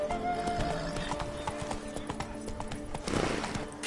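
In The Witcher 3: Blood and Wine, Roach's hooves trot in a quick, busy patter of overlapping clip-clops over game music and ambience, with a brief snort or whinny near the end.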